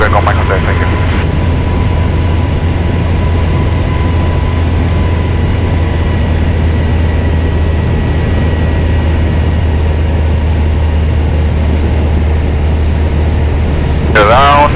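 Cessna 172RG with a 180 hp engine on approach to runway 33 at Salzburg, its steady loud engine drone filling the cabin throughout, with radio voices heard over it.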